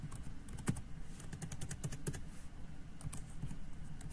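Fingers tap quickly on a computer keyboard, a close run of light clicks with brief pauses and no voices over it.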